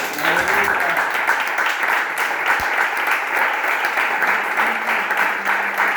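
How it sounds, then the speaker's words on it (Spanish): Congregation applauding the Father during a Spanish-language church service: steady, dense clapping from a large group fills the whole stretch at an even level, with some voices and cheers mixed in. "Dale un aplauso al Padre"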